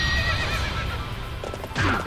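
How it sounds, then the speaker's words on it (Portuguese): Horse in the Warriors Orochi 3 Ultimate Definitive Edition video game: a loud whinny at the start, hoofbeats clopping throughout, then a second neigh near the end, all close and clear. "Cadê o cavalo? Vambora, cavalinho."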